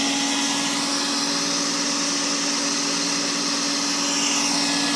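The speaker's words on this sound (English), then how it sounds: "we're sticking it right through the grinder and making our own chum" A wood chipper run as a grinder to turn whole fish such as pinfish into chum, giving a loud, steady mechanical roar with a constant hum that runs unbroken throughout, with no talking.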